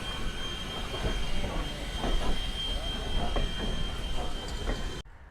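Steam locomotive on the Strasburg Railroad, engine 89 or 90, working hot and ready to roll, giving a steady loud rumble with repeated chuffing pulses and a high hiss, close by, then cutting off abruptly near the end.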